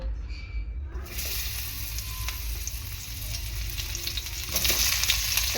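Pointed gourd (potol) pieces fry in hot oil in a pan for a vegetarian vegetable dish, giving a continuous close sizzle that swells a little louder near the end; there is no talking.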